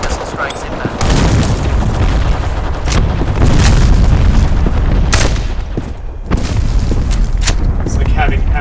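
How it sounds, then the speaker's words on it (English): Missile strike explosions in the Company of Heroes 2 video game: loud, heavy booms and sharp blasts in repeated bursts over a continuous rumble of battle noise. "Friendly missile strikes inbound."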